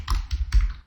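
Quick burst of keystrokes on a computer keyboard, a few close, crisp taps in an uneven rhythm with no talking.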